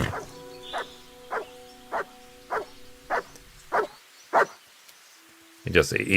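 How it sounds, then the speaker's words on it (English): A dog barks in the medieval game Kingdom Come: Deliverance 2, about seven evenly spaced single barks at a steady rhythm over a faint musical drone, before a burst of other noise at the end. "He barks to declare that he's back."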